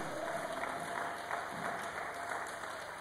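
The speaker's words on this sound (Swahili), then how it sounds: "Piga makofi mazuri kabisa." A church congregation applauds steadily throughout, a dense wash of many hands clapping at even loudness with no pauses, filling the space around the listener.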